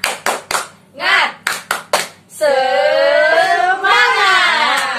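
A group does a rhythmic spirit clap, a run of sharp, evenly spaced claps in quick bursts, then voices break into a loud, sustained, wavering cheer.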